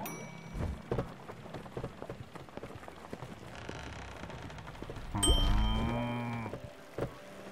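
Sheep in the video game Spiritfarer let out a loud, wavering bleat partway through, set against a steady patter of rain and scattered soft knocks; no talking.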